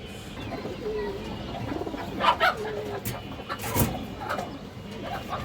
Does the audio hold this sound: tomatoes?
no